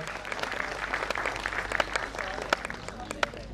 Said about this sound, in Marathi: आशा ब्राह्मणे मॅडमसाठी जरा जोरदार टाळ्या वाजवूया